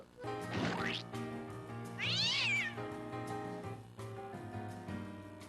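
Two loud cat meows, the second high and wavering, over a steady background of music with harmonic tones throughout, from an animated Charlie Brown Christmas cartoon.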